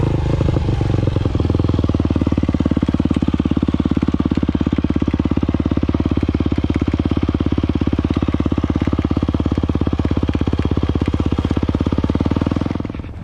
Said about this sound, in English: my girlfriend learning how to ride a dirt bike